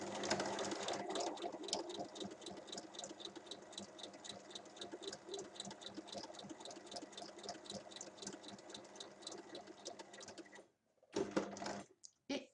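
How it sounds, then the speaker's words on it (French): A sewing machine stitches fabric along a seam while a book holder is being made, giving a fast, even mechanical patter that runs for about ten seconds before stopping, followed by a few short bursts. "Je continue le long de ma couture."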